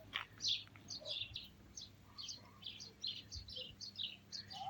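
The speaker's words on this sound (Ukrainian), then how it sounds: "Чуєте, як пташечки співають." Several small birds chirp and trill in short repeated bursts at moderate distance, over a low steady background hum.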